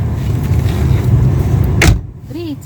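Car engine idling to warm up in falling snow, a low steady rumble close by, ending in a sharp click or thump followed by a short whirring tone.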